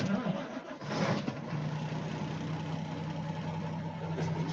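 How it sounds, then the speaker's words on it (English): A cold truck engine cranks and catches after a second, then settles into a steady low idle hum that continues to the end. "Man, this damn truck is cold,"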